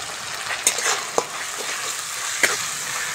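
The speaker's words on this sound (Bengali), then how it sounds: "মশলাটা ভালো করে ভেজে নেব।" Ground spices with ginger and cumin paste frying in oil for a light fish curry, a steady close sizzle broken by a few sharp clinks and scrapes of a spoon stirring the pan.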